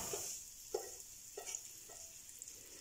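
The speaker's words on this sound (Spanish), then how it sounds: "Una vez que mi aceite ya está caliente, voy a agregar mis piezas de pollo" Chicken pieces frying in hot olive oil, a quiet steady sizzle with four or five soft thumps as pieces are set into the pan, fairly faint and close.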